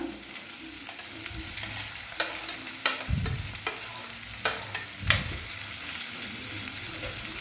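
Onions fry in a pan for a mackerel curry (ayala meen) while a spoon stirs them, a soft background sizzle broken by irregular scrapes and knocks against the pan, with no voices.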